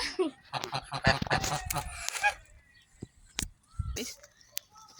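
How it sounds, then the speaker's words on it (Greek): Geese in a countryside park give several loud, harsh honks in uneven bursts, with other fowl calls and some background voices between them. "εδώ από ό,τι βλέπετε έχει χήνες"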